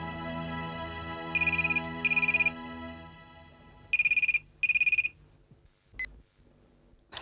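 A telephone rings indoors in a family home, sounding in paired electronic bursts twice over a soft tonal background, then a short final blip.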